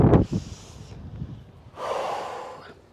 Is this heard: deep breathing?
yes